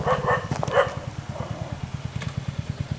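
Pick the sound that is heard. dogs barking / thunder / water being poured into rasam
dogs barking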